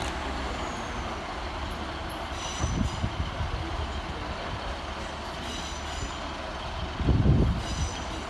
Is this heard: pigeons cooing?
no